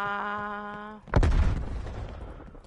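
Turret gunfire in Call of Duty Black Ops Cold War: a droning tonal hum cuts off into a single heavy, booming blast with a rumbling tail that slowly fades.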